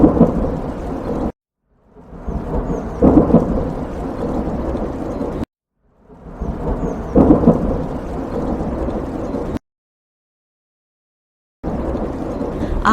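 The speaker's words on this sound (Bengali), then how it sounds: "শুরু হলো প্রলয়ঙ্করী ঝড়।" A cartoon thunderstorm in a village, with heavy rolling thunder and a dense wash of pouring rain coming in two long loud bursts, each broken by abrupt silence, then a third burst starting at the end; no voices.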